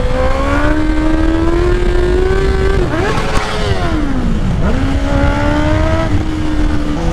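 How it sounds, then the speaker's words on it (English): A Honda CBR650R motorcycle engine revs hard and climbs in pitch, then drops sharply as the rider shifts before winding up again. The engine is loud and close throughout, with no talking. "I think we can do a little bit of a wheelie, boys"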